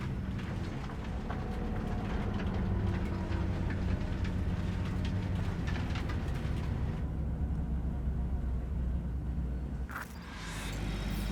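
A low, steady rumble of a train in the video game Cyberpunk 2077 rolling along with faint rhythmic clatter, continuous throughout, with a brief shift in tone near the end.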